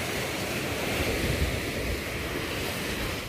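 Rough surf pounds a beach at Olanivan Island, a continuous loud wash of breaking waves mixed with gusty wind buffeting the microphone.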